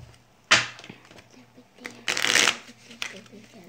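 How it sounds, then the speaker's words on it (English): A deck of playing cards being shuffled by hand at close range, with sharp riffling bursts and a longer shuffle in the middle, while a person talks quietly underneath. "first I'm gonna shuffle it."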